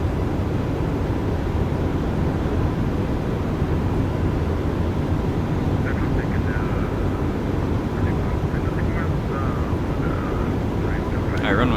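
A four-engine airliner on short final to runway 34 left in the X-Plane flight simulator gives off a constant low engine rumble and airflow roar, with faint voice chatter beneath it.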